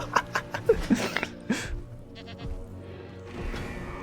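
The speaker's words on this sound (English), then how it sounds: "We have the goat." A goat bleats several times in the Jurassic World Evolution 2 dinosaur park game, with short repeated calls in the first second and a half before quieter game ambience takes over.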